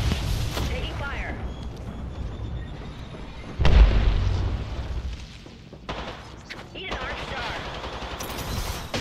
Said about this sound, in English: Give me a thermite grenade. Thermite out.